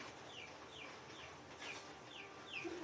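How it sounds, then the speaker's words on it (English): Soft chicken clucks repeat at a steady pace, faint and somewhat distant over a low background hiss. "Oh, is that a chicken?"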